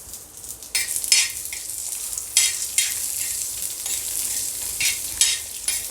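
Garlic cloves and a piece of ginger sautéed in a pan, with a loud close sizzle that comes in bursts as the pieces are stirred and tossed, alone without voices.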